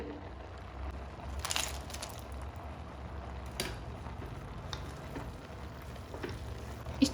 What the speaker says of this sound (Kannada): ಎಣ್ಣೆಲಿ ಫ್ರೈ ಆಗೋಷ್ಟರಲ್ಲಿ